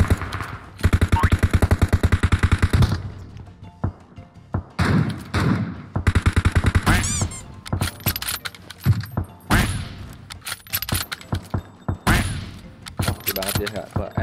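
Bursts of rapid gunfire in PUBG alternate with single loud shots and thuds, punctuated by short silences, with voices talking in between.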